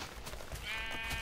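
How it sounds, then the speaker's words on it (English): A single sheep bleats in the video game Minecraft Legends, one wavering, fairly faint bleat over a soft game background with no talking. "Nice if I could get a sheep."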